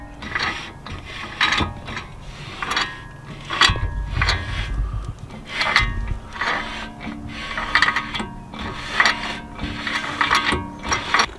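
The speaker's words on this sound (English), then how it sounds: "So watch the rotor spin and watch the inner axle there not spin." A car's brake rotor spins while the inner axle stays still, giving an irregular mechanical whirring with repeated clicking and ratcheting bursts at close range, and no talking.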